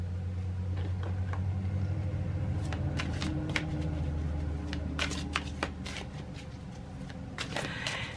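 Tarot cards shuffled by hand, a run of close, crisp riffling and slapping sounds clustered in short bursts over a steady low background hum, with no voices.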